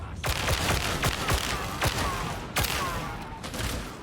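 Gunfire from a Warhammer 40,000: Darktide firefight against enemies in cover: rapid, loud sharp shots cracking over a dense, continuous roar of battle, with a few heavier blasts standing out.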